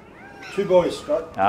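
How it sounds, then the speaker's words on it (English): Newborn puppy cries in a high, whining squeal: a few short rising cries near the start, then a louder sustained squeal at the end, with someone talking over and between them during a puppy birth at a vet clinic. "That's the sound of this gorgeous dog's puppy."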